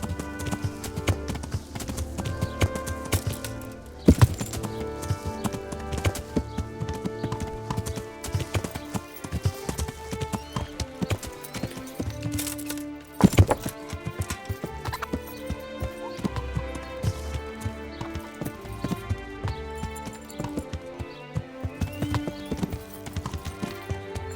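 Horse hooves clip-clop in a steady rhythmic gait over a bed of layered music in the video game Kingdom Come: Deliverance, with a couple of sharp louder knocks along the way.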